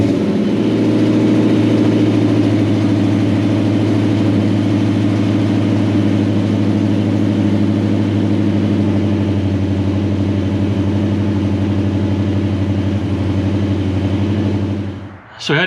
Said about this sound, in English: we'll see if we can get this thing to fire up, and hopefully it runs pretty close